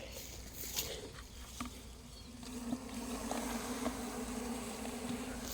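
Bees nesting in a garden, with a steady, fairly faint insect buzz that drones on throughout, joined by a few light ticks and taps, and no one speaking.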